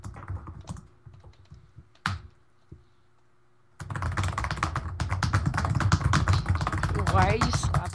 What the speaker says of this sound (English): Why are you slapping your keyboard?